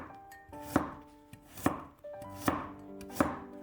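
A knife slices a peeled carrot into thin pieces on a board, four crisp close chops landing at a slow, even pace with no talking.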